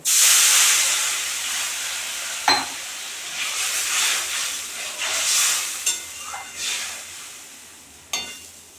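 Water poured into a hot pan of spiced fish curry with Kashmiri chilli powder, a strong hiss and sizzle that bursts loudly at first then settles into a steady bubbling steam, with a few sharp clinks along the way.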